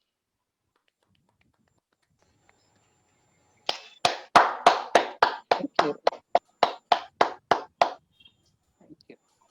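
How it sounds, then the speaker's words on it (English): An audience claps in a short run of about fifteen distinct, fairly sharp hand claps that speed up slightly, then fade into a few soft stray claps, in an otherwise quiet room. "The clapping will never end"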